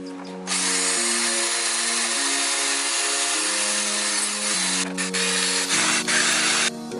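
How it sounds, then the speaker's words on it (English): A power drill with a wire brush whirs steadily, grinding harshly and scratchily against metal brake calipers to strip residual paint, continuous and close, with slight pitch shifts as the speed changes. "I'm actually going to take my drill with the metal wire brush and just kind of go around the surface"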